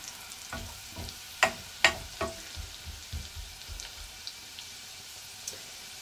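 Garlic fries in butter while being stirred, soft crackling pops and spatters with a few sharper snaps and occasional scrapes, fairly quiet and close with nobody talking.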